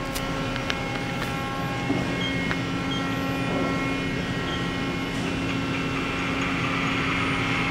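A Mori Seiki NL-3000Y CNC lathe spinning its live tool on the turret, a steady mechanical hum with high whining tones and occasional clicks, continuous and fairly close throughout.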